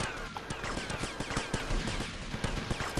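Rapid automatic gunfire rattles almost continuously in Vice City Definitive Edition, dense bursts of shots packed close together and loud throughout, with no talk over them.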